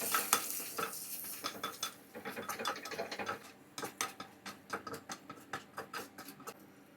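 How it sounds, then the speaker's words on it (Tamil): Okra sautés in oil with salt and chili powder in a pan, a soft sizzle under a busy, rhythmic series of spatula scrapes and clinks against the pan, close by. "வெண்டைக்காய் இப்போ நல்லா வதங்கிட்டு இதை நம்ம எடுத்துடலாம்"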